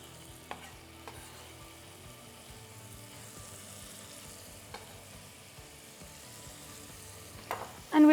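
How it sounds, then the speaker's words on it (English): Chopped tomato sizzles and fries steadily with spices in a hot pan, a close, continuous crackle with a few louder spoon scrapes and stirs, no voices. "I'm going to add the chopped tomato"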